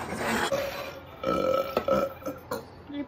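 A person lets out a drawn-out, croaky burp close to the microphone in a kitchen while making pastillas, lasting a few seconds with stuttering pulses and no talk over it.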